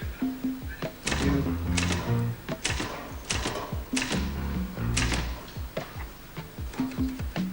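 Keystrokes on a typewriter as letters are typed out, an irregular run of sharp mechanical clacks close by with a low background tone underneath.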